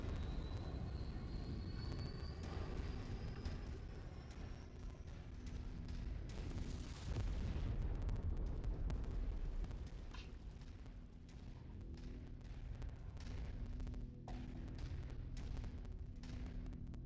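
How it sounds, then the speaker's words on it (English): An aircraft-like roar and rumbling blasts from a VTOL crashing and exploding during combat in the video game MechWarrior 5: Mercenaries, played in a modded career mode. The sound is dense and continuous, with a rising whine early on and a heavy boom near the middle. "I'm gonna watch this VTOL crash and burn"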